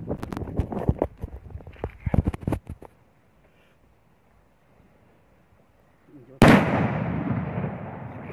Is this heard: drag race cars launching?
no